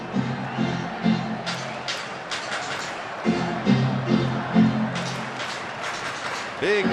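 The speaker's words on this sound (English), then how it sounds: "Big crowd, and they are very much into it." Big stadium crowd at a Mets–Dodgers baseball game in Los Angeles, rising and falling roars and cheers swelling in waves, with a commentator talking over parts of it.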